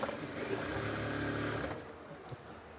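A sewing machine stitches a chain onto a kameez neckline, a steady low mechanical hum running for about a second and a half before stopping, followed by quiet handling.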